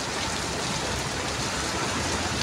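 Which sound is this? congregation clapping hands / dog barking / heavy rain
heavy rain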